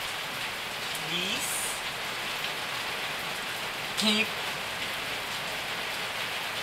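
Steady rain falling on a surface, a continuous hiss of drops running throughout at moderate level, with a person speaking briefly over it.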